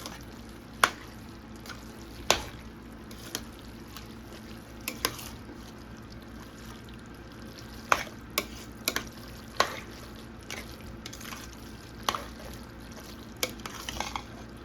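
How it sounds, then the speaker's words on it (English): Spaghetti and meat sauce being stirred and tossed together in a pot, with soft wet squelching and scattered sharp clinks of a utensil against the pot at irregular intervals, fairly quiet and close. "I got all my meat and spaghetti together, and I'm just gonna take it and mix it well"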